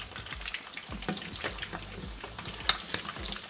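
Maryland-style jumbo lump crab cakes fry in a pan after being turned, giving a steady close sizzle with scattered pops and light crackles, and no talking over it.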